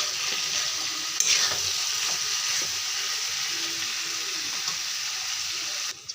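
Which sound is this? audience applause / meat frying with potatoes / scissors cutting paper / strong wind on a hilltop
meat frying with potatoes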